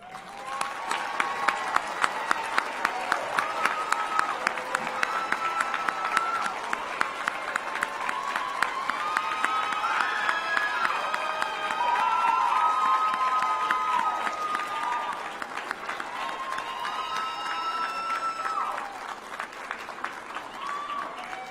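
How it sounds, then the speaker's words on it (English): Guests and graduates at a Class of 2020 commencement for the Colleges of Business and Health Sciences and Human Services give sustained applause with some cheering, a dense steady roar of clapping lasting throughout. "Please stand up and take a bow as guests and graduates applaud you"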